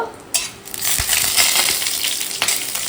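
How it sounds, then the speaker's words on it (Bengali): Whole garam masala spices hitting hot ghee in a pan, a loud close crackling sizzle that swells after a sharp metallic clink, with light utensil clatter throughout. "মা গোটা গরম মশলা ফোড়ন দিয়ে দিল"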